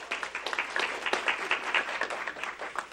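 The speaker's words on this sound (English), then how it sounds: "How about a round of applause for Carol?" Audience applause at a school district foundation grants presentation, a steady patter of many hands clapping in a room, moderately close and without talk.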